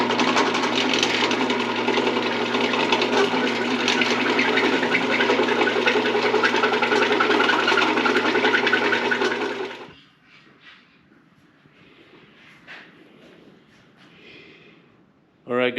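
A power tool cuts a hole in a 2021 Jeep Gladiator: a loud, steady, buzzing grind runs close for about ten seconds, then cuts off abruptly, leaving faint clatter and quiet handling noises.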